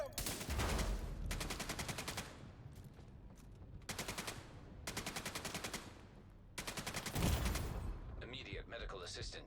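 Heavy automatic gunfire in the shooter game Division 2: rapid full-auto bursts of assault rifle fire, several sustained strings of a second or two each separated by short pauses, loud and close, with faint game voices.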